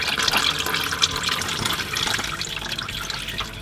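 Automatic transmission fluid drains from a loosened sump pan in a continuous splashing, trickling stream, close and fairly loud the whole way through.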